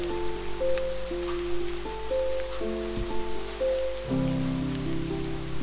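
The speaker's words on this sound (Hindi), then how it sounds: "एक ही बारिश बरस रही है चारों जानिब।" Steady rain patters over hard surfaces, a constant hiss with soft sustained musical tones playing over it.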